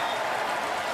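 A stadium crowd at a CFL football game between the Winnipeg Blue Bombers and the Ottawa Redblacks roars after a quarterback sack, a broad continuous wash of cheering and clapping heard at a distance under a faint voice.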